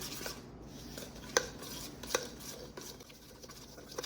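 Minced garlic, breadcrumbs and grated cheese being mixed in a bowl for Italian wedding soup, with soft scraping and stirring plus a couple of light utensil clinks against the bowl, close and quiet with no talk.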